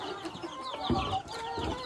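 Chickens cluck close by in short, overlapping bursts, with higher chick peeps mixed in.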